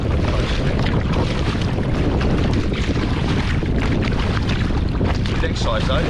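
A kayak paddles across choppy waves in strong wind, with constant loud wind buffeting and rushing water splashing throughout, steady and close.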